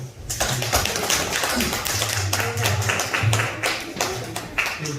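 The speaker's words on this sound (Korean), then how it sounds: "환영의 감사의 박수 한번." A church congregation claps in welcome during a Thanksgiving worship service, dense rapid hand claps filling the whole stretch at close range, with a few voices faintly underneath.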